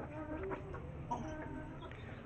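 Chickens cluck softly at close range while they eat, with scattered quiet calls over a low, steady background.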